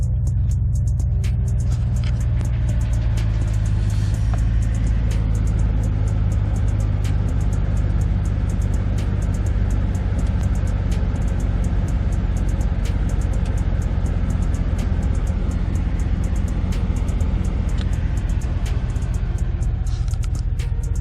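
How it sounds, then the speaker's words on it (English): A 2018 GMC Sierra with a 6.2L V8 fitted with an LT5 throttle body idles high on a cold start, a steady, loud, close engine drone holding evenly throughout with no talk. "It's a cold start, so it's idling a little high."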